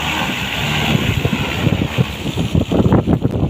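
Strong wind over a Malaysian paddy field buffets the microphone in a steady roaring rush, with gusty low rumbling throughout.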